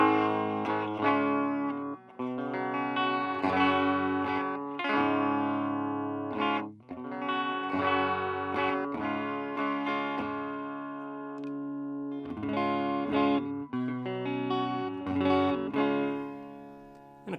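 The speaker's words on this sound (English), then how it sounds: "let's do a couple clean tones with this amplifier." Clean electric guitar tones through a cheap $49 practice amplifier, a steady run of strummed chords and picked notes ringing out close and loud with brief pauses between phrases.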